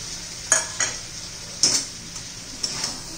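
Stuffed bitter gourds frying in a pan give off a faint, steady sizzle, broken by a few sharp clinks of a utensil against the pan.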